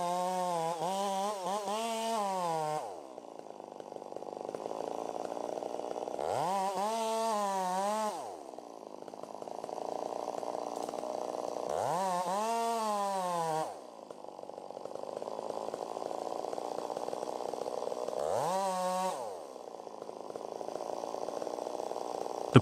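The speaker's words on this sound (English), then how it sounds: "The crew then makes precise cuts into the tree's trunk" A chainsaw roars continuously while felling a giant tree, its pitch dropping as it bites into the trunk and rising again between cuts, four long cutting passes close by.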